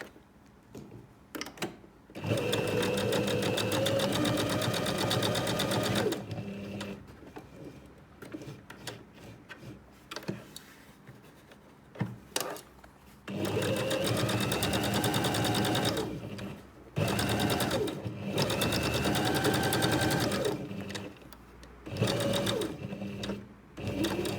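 A sewing machine hums through several long stitching runs with short pauses and a few clicks between them while it sews an iPad mini cover, close and steady.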